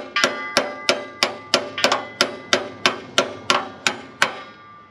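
Around fourteen sharp metallic hammer blows ring out at a steady, even pace, close and loud, each with a short clanging decay, as a bolt is driven into the axle of a WWII M15A1 half-track.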